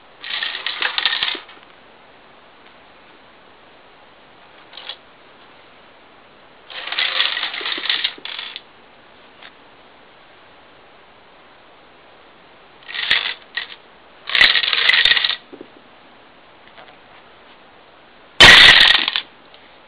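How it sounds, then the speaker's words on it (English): A chain of small dominoes topples in several separate bursts of rapid clicking clatter, close and crisp, with quiet pauses between runs and a final louder rattle near the end. "Lots of cool little dominoes. So I'll start, and it comes into turns."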